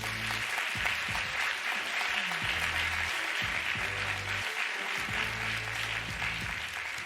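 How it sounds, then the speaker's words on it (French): Sustained audience applause for the finalists of a university thesis-presentation contest, a dense, steady wash of clapping from a large crowd in a hall, with low murmurs underneath. "Applaudissons-les encore une fois."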